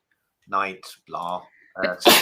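A quick sneeze bursts out among tournament chess commentators, loud and close, right after a short stretch of speech.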